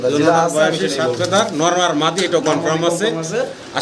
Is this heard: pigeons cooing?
yes